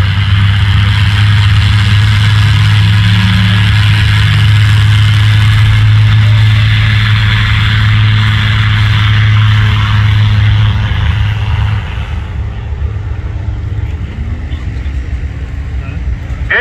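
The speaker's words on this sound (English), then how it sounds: "Here's Gary Schmidt in his Super STOL Just aircraft" A Rotax-powered Just Aircraft Super STOL plane taking off at EAA Oshkosh 2022, its engine droning loud and steady at full power before fading slightly as it climbs away, with a voice talking over it.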